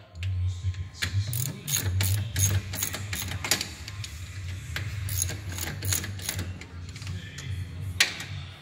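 A hand ratchet with a 15 mm socket tightens a bolt while greasing the driver-side rear of a 2018 X3 XRS, giving rapid rhythmic clicking bursts over a steady low hum, close and fairly loud.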